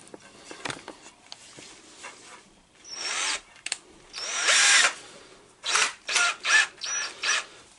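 A power drill drives a screw into Ikea remnant wood for a guitar strap holder, in short whirring bursts of varying length separated by pauses, loud and close, with quieter handling clicks between.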